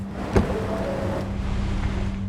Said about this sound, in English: shows us how the truck automatically shifts to park and activates the emergency parking brake